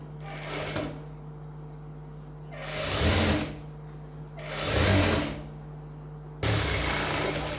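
A sewing machine runs in short bursts while stitching a folded quarter-inch hem on a boat-neck blouse, with the motor whirring through three or four separate runs and pauses between them, close and clear.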